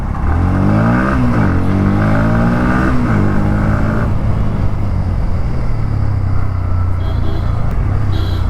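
Engine of a 2024 Bajaj Pulsar NS 160/200 motorcycle while riding, a loud continuous rumble with rising and falling revs as it accelerates and shifts, steady under wind noise throughout.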